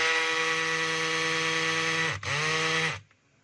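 A DeWalt DCD796 cordless drill whines at a steady high pitch, briefly dips and restarts near the end, then cuts off and goes quiet. It runs alone and close with no talk.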